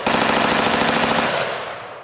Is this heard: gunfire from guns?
yes